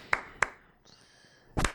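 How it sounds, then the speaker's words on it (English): A few sharp hand claps, two quick ones and then a late single clap after a pause, close and fairly loud in an indoor room. "clapping last minute clap"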